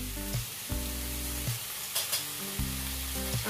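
Chicken sizzles as it fries in a pan in a home kitchen, with a steady crackle under a low background of harmonic hum and occasional bursts of spitting oil; no one talks.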